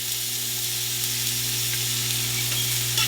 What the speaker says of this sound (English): So the rest of the onions we're going to saute here.